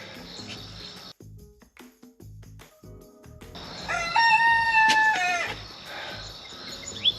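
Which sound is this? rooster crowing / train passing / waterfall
rooster crowing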